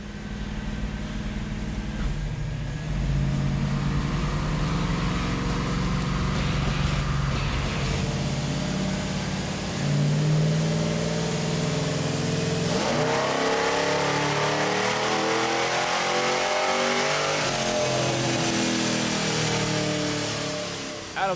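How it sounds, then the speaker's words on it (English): A tuned Bandit tribute Pontiac Trans Am engine revs slowly up and down through its range, a loud, continuous throaty roar with rising and falling sweeps and no talking. "we'll slowly run it through the RPMs to let the computer learn"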